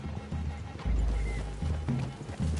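Horses moving through a wooded clearing in the video game Red Dead Redemption 2, with close, loud hoof clops and shuffles. A heavy low thump lands partway through, and there is faint breathing and snorting in between.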